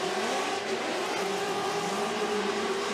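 Formula Drift cars drift around a track, a continuous loud engine howl with rising and falling revs and a faint edge of tire squeal, heard alone without talk.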